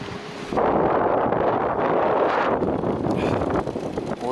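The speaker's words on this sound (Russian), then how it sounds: "Ветер поднялся, просто кошмар." Strong wind gusts across a lake during a fishing trip, whipping up whitecaps and foam. A loud, continuous roaring rush buffets the microphone, swelling and easing slightly but never letting up.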